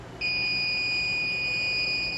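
A home-made 60-volt battery generator's power inverter gives a shrill, continuous two-tone alarm that starts abruptly and holds steady at close range.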